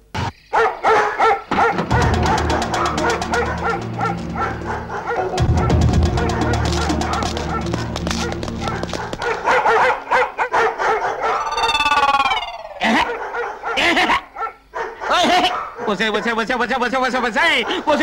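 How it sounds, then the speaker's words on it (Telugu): Several dogs bark and yelp in loud, rapid overlapping bursts, with howling and whining mixed in alongside voices. "పాడు కుక్కలారా, ఈ అరుపులతో నా చెవులు చిల్లులు పడిపోతున్నాయి కదే."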